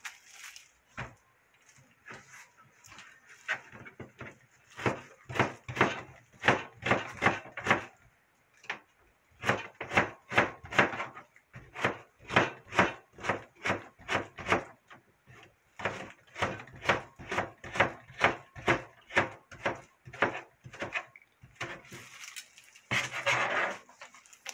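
A knife chops napa cabbage for geotjeori on a wooden board, with quick loud rhythmic strokes in long runs broken by short pauses and no talking.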